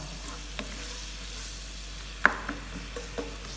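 Onions frying in a pan until golden brown, a soft steady sizzle over a low constant hum, with a few sharp clicks of a spoon against the pan and no talk.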